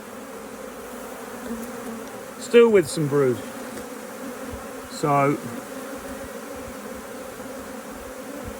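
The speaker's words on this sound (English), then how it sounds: "load of bees in here" Honeybees hum as a steady low drone inside a hive holding brood, while someone talks briefly over it in short phrases.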